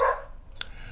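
A single short dog bark rings out at a moderate distance indoors, followed by a faint second yip, with quiet room tone and no talking.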